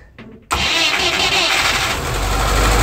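A 1993 UAZ engine cranks briefly with a whirring starter, then catches almost at once and settles into a loud, rough, steady running idle close by.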